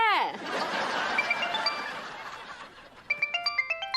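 A chuckle fades, then a bright electronic phone ringtone for a video call starts up, repeating a quick melodic pattern of tones.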